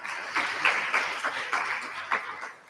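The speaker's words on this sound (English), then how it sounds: "give a big round of applause to Mahesh Desai" An audience at a Kathak dance debut performance claps together, a dense wash of applause with a few sharper individual claps standing out, steady for under three seconds before tapering off.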